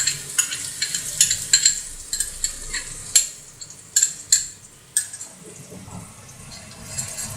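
Chopped large onion is stir-fried in a pan for Kerala-style fried rice: a spatula scrapes and clacks against the pan in irregular strokes over a faint sizzle, with no talking.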